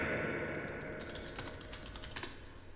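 Quick soft keystrokes on a computer keyboard as a name is typed, faint and close, a short burst of clicks over a low steady hum.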